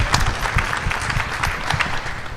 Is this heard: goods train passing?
no